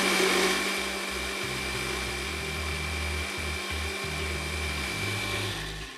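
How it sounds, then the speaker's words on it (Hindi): A blender whirs continuously at high power blending a soup mixture of roughly chopped garlic, onion and carrot, its motor pitch shifting slightly as the mixture churns, loud and close throughout. "थोड़ा सा और ब्लेंड करते हैं"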